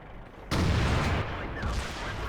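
A tank cannon fires once in World of Tanks, a sudden loud close boom that cuts in and rolls on into a long, rumbling, noisy decay.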